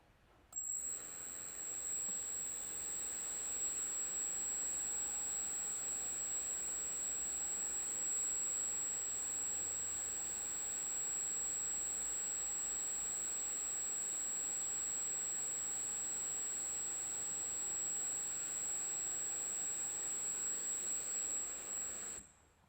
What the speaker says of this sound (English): we're going to run the EDF at the test speed and measure